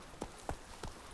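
Horse hooves galloping in the video game The Witcher 3: Wild Hunt, four soft, evenly spaced thuds at a quick, steady pace, faint and low in level.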